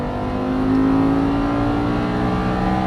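An Audi R8 sports car accelerating on a racetrack, its engine holding a loud, steady, rising drone from up close with a strong tonal whine throughout.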